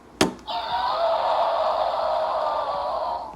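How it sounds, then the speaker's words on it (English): A heavy Dwellings of Eldervale board game box slams onto a table with one sharp thud, followed by a steady rushing hiss of room noise for the rest of the moment. "I do like slamming it on the table and having the noise"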